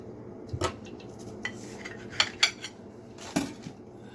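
A knife cuts into a finished turkey and egg grilled cheese sandwich on a plate, giving a few soft clinks and scrapes of metal on dishware spread over several seconds, fairly quiet and without talk.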